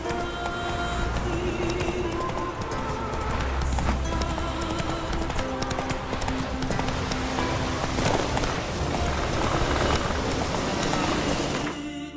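Roach the horse galloping in The Witcher 3: Wild Hunt, rapid rhythmic hoofbeats pounding along continuously over game music and ambience, close and steady for the whole stretch.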